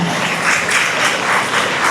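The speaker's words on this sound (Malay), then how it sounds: "Berikan juga tepukan kepada Cikgu Sarani." A crowd applauds steadily at a speech event, dense clapping filling the short stretch without any voices.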